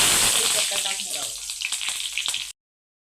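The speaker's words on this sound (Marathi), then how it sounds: "मिरची ठेवून घेऊयात आपल्याला व्यवस्थित परतून घ्यायचे आहे" Stuffed bell peppers sautéing in hot oil with mustard seeds and cumin, a steady close sizzle with small crackles and pops, cutting off abruptly after a few seconds.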